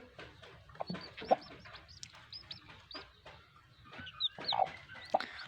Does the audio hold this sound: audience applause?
no